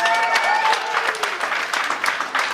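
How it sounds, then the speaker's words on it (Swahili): An audience at a gathering claps in a sustained, dense burst of applause that stays fairly loud and steady throughout, with crowd murmur mixed in. "Tumpigie makofi mazuri."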